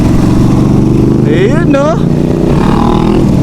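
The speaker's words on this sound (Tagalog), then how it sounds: "Uy, big bike yung nasa likod natin." Big bike motorcycles, Harley-style, pass close by on a road with a loud, steady low engine rumble and a rising and falling revving whine through the middle, while people talk over it.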